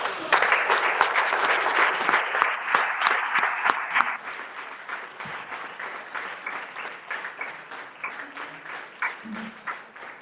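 Crowd at a memorial service breaks into strong, dense applause that starts loud, eases after a few seconds and then continues as scattered, thinning claps.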